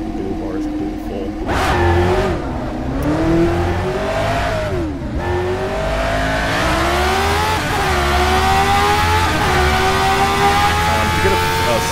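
A race car in the rFactor 2 sim racing game pulls away, its engine rising and falling in pitch as it revs up through the gears, loud and continuous, with a person talking over it.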